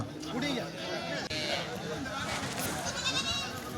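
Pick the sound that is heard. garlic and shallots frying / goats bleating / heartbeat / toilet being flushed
goats bleating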